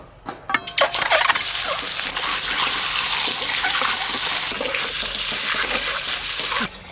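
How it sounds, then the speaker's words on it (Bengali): Boiled duck eggs coated in turmeric and chili powder fry in a hot pan with a loud, steady, close sizzle and crackle, starting with a burst of spitting pops as they go in and fading out at the end. "এবার ডিমগুলো ভালো করে ভেজে নেব।"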